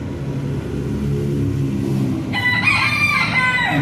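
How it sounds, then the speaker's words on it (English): A rooster near a McDonald's in Puerto Vallarta crows loudly and close by, a single drawn-out cock-a-doodle-doo breaking in after a low rumble of traffic. "Chickens following you into McDonald's."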